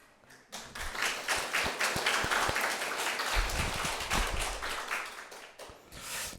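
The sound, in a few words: congregation applauding in church service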